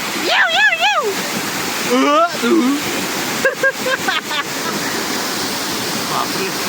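Strong flow of the Darekar waterfall roars steadily as a loud, continuous wash, with several short voice-like calls and shouts rising over it in the first four seconds.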